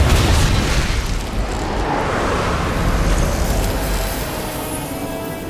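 An explosion attack in the video game Tales of Arise, a loud sustained roaring blast filling the whole stretch with heavy low rumble and wide hiss.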